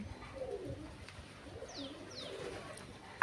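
Pigeons coo softly in low, murmuring calls, with a couple of brief higher chirps from another bird; fairly faint and distant, no voices.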